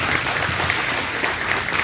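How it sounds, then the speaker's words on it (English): Applause from a crowd at a community club candidates' night with a pasta dinner, a steady wash of clapping somewhat distant and even throughout. "So we just get a round of applause"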